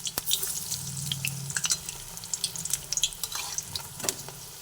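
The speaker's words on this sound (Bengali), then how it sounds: "একটা দিক ভেজে নিচ্ছি" Pieces of a vegetarian dish fry in a pan on a gas stove at medium flame, giving a soft, bubbling sizzle with scattered pops and light clinks, fairly quiet and close.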